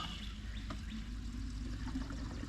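Liquid, presumably gasoline, pours steadily from a gas can in a wood-cutting setting, a continuous gurgling, splashing stream lasting throughout at moderate loudness with no talking.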